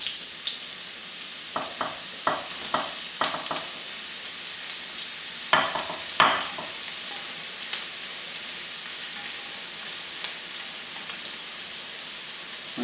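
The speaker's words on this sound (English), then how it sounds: "So now we're going to add our onions." Onions sizzling in a pan for a salmon pasta sauce, a steady hiss interrupted near the start by a short run of sharp tapping and clanking strokes, then settling into a constant, close sizzle.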